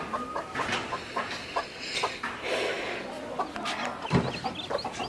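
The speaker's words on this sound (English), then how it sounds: "Today, I bring new fashion chicks and jungle fowl chicks for you." Jungle fowl chicks and silkie chicks peep and cluck repeatedly at close range in short, overlapping calls, with no talking.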